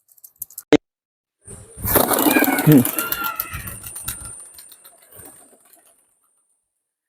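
High-flying pigeons are released and burst into flight with a loud flurry of flapping wings that fades away over a few seconds into quiet.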